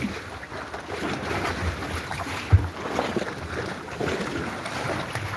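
A yacht rocks in rough harbor water at Juneau, Alaska, with steady wind and water wash and a single dull thump from a door banging inside the boat.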